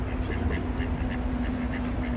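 Ducks on the Elbe river quack repeatedly in short nasal bursts, fairly near, over a steady noisy outdoor background with a low hum, while a fishing setup is being prepared.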